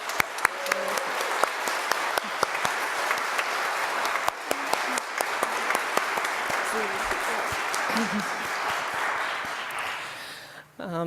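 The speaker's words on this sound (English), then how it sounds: "Can we get a particular round of applause for Hannah and the board and the staff and everyone else who is..." An audience in a congregational gathering gives a sustained round of applause, dense steady clapping filling the room for about ten seconds before it fades abruptly at the end.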